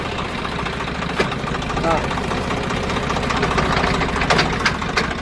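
A Swaraj 744FE tractor with a gearbox noise runs at a steady idle, a close rumbling drone with a knocking rattle and occasional clanks.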